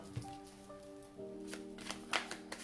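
Tarot cards being shuffled by hand, a run of soft papery riffles and flutters with a few sharper card snaps, close and fairly quiet over a faint steady background hum.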